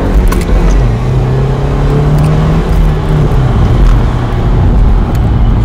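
BMW 3 Series 320i E93 with its engine and exhaust running, a steady close engine drone with faint rising revs throughout, no talk over it.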